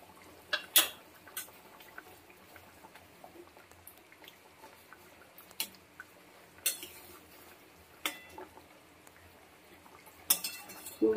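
A spoon stirs a pot of Bengali curry with fried onion beresta just added, giving sparse light metallic clinks and soft scrapes against the pot over a quiet background, with no talking.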